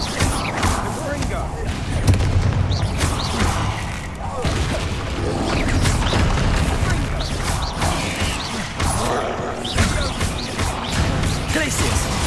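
Spell blasts from Bombarda and Confringo burst in a Hogwarts Legacy troll battle, repeated crashing explosions and mechanical clatter scattered across a busy fight, with someone talking and calling out throughout.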